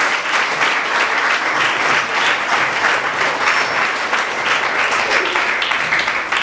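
An audience at a school reunion event claps steadily, a dense, loud burst of applause that stays even for several seconds with no talk over it.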